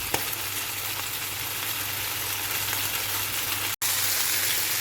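Honey garlic chicken fries in a pan in its own rendered oil, a loud continuous crackling sizzle close by with a brief cut near the end.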